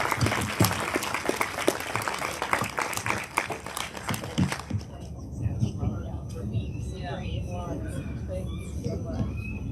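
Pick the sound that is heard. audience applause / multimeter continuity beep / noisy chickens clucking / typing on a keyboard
audience applause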